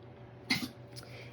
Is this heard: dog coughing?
yes